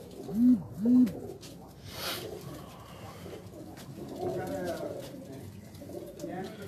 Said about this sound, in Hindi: ये टाली वाला दूसरा कबूतर है जी